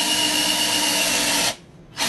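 A cordless 12V drill driver whirs steadily as it drives screws into solid wood, a loud continuous motor drone that stops briefly, then spins up again.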